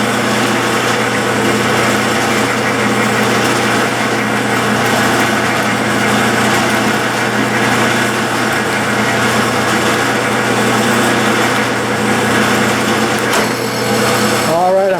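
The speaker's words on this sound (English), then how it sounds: "So I'll turn the machine on, and when I throw the clutch in, I will push the tailstock and it'll start drawing itself in." A lathe runs at a steady loud hum with a tailstock tap drawing itself into 12L14 steel, the machine drone constant throughout, with a brief rising whine near the end.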